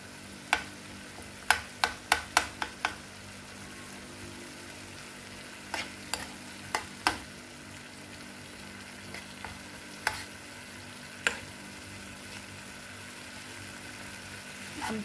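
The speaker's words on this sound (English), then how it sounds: "I will stir them until they give me the soup before I add my spices." Smashed eggs being stirred in a frying pan for simple scrambled eggs, with a soft steady sizzle under a series of sharp utensil scrapes and taps, clustered early and then spaced out, with no talk.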